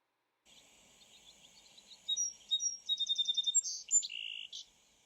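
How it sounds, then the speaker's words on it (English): A song sparrow sings alone against silence, opening with a faint buzzy note and then running into a loud, rapid series of clear trills and chirps that ends on a buzzy flourish. "If you guess the song sparrow, then you're right."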